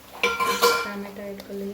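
Tomatoes going into cooking onions in a pan: clattering clinks of a metal utensil against the pan, stirring scrapes and a soft steady background hum, close and fairly loud, with no talk.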